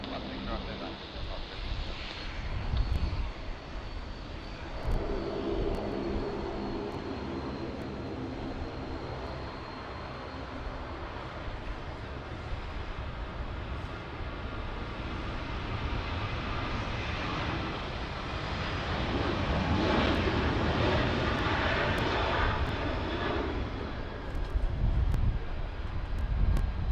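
Airliner landing on runway 16 right at Sydney Airport, a steady loud engine roar with wind noise that swells toward the end, with radio talk over it.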